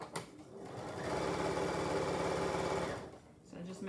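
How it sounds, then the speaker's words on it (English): A sewing machine runs a straight stitch on a fabric bird bun for animal rescues, whirring steadily and close for about two seconds between brief pauses, with faint handling noise at either end. "So I just made a straight stitch all across from the top"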